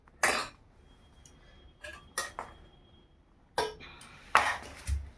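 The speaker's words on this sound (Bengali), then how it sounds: "এবার থাল ধুচ্ছে, থাল ধুয়ে এবার ভাত বাড়বে" A plate being washed, with a few sharp clinks and knocks of metal dishware set apart by quiet gaps, close by and fairly faint.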